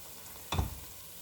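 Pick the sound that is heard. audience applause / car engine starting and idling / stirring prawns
stirring prawns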